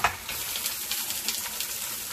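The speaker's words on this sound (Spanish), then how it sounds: "Para poner los huesitos ahumados primero. A sofreír un poquito." Smoked bones sizzle and crackle in a little hot oil for a sancocho de habichuelas rojas, a steady close frying hiss with small pops and stirring scrapes, no voices.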